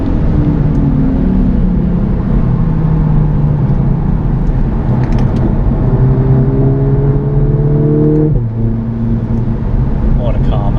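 A Mercedes-AMG A45 S with an 8-speed dual clutch gearbox accelerates hard on a track, its engine note climbing steadily and then dropping sharply at a quick gear shift, loud and continuous inside the cabin.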